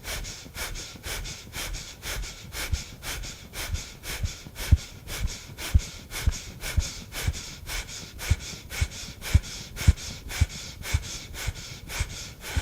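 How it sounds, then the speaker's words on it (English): Rapid, forceful pumping breaths during a Breath of Joy breathing exercise, repeating in a steady, even rhythm of sharp inhalations and exhalations, close and loud, with no talking. "Here we go, breathing in."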